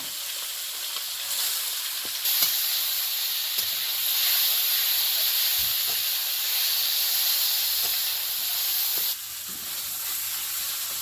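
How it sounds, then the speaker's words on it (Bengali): Large prawns fry in oil, a loud steady hissing sizzle with a few spatter pops and clicks, dropping in level near the end. "চিংড়িটা ভাজা হয়ে গেছে"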